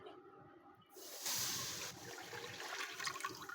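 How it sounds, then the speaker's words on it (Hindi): Half a litre of water is poured into a pan set on the stove, a quiet hissing splash starting about a second in, swelling briefly and then continuing as a softer trickle, with no one speaking. "इसके ऊपर हम डालेंगे आधा लीटर पानी"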